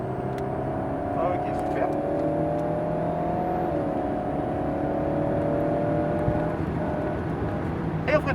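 An Alpine A110S sports car drives around the Lohéac race circuit, its engine droning steadily with a constant cabin hum and little change in pitch, while a voice speaks briefly over it.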